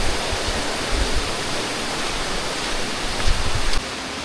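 Tumpak Sewu waterfall in Indonesia roars as a dense, steady rush of falling water, loud and close, with no voices over it.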